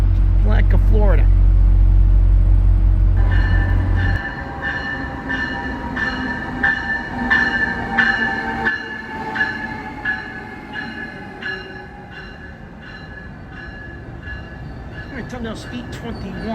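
Amtrak train arriving at Bridgeport station in Connecticut, with a loud horn blast at the start followed by rumbling railcars, rhythmic wheel clatter and metallic squeal as it rolls in, while a voice can be heard talking over it.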